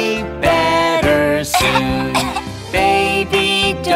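A cartoon baby sneezes and coughs in short loud bursts over a bouncy nursery-song backing, several quick coughs in a row.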